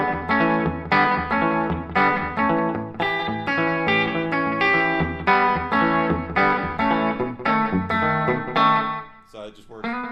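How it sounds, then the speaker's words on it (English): Electric guitar played through a rockabilly slapback delay pedal on a pedal board, rhythmic chords and notes with short echoing repeats and effects coloring, fairly loud and alone. "And then I've got my Rockabilly Slapback."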